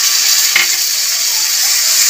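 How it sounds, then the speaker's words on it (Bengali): Grated tomato frying in a pan with onion and ginger-garlic paste for a fish head curry, giving a loud, steady sizzle throughout with one brief clink near the middle. "টমেটোটাও ভেজে নেব।"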